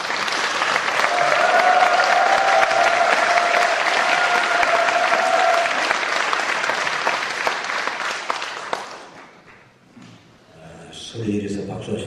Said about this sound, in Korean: 우리 총회장님 나오실 때 우리 박수 한번 하실까요?